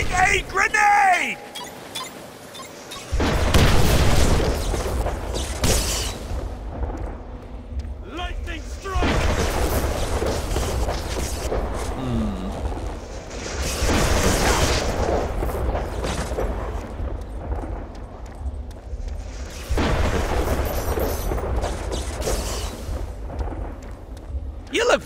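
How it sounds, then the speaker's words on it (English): Grenade blasts and heavy booms erupt in a Deadpool video game, several loud explosions recurring every few seconds amid continuous combat noise, with a character talking between them. "I am throwing a grenade."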